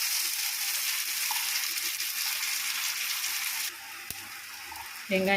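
Onions frying in a tempering for kothu keerai greens curry, a steady hissing sizzle that drops quieter partway through, followed by a brief clatter and a stir at the end.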